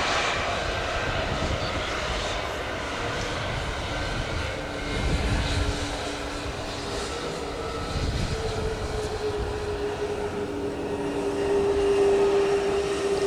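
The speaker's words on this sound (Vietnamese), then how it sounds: "Bây giờ thì chiếc máy bay đang nhanh chóng hạ cánh và thoát ly khỏi đường băng 25 phải." A jet airliner lands and rolls off runway 25 right, its engines a steady, moderately distant roar that swells and fades over several seconds, with a rising whine near the end.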